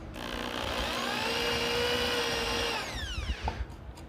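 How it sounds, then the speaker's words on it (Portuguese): Electric drill with a bit boring holes into clamped wood for a simple woodworking joint, a loud steady whine held for nearly three seconds before spinning down, then brief clatter, no voices. "Vamos usar a furadeira para facilitar a nossa vida aqui."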